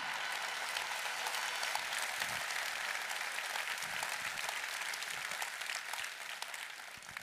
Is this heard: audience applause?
yes